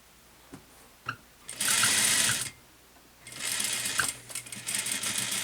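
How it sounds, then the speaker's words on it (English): A sewing machine stitches along the edge of a pullover blouse in two close, loud bursts of rapid needle whirring, separated by a pause and a few small clicks. "So now we sew the other edge."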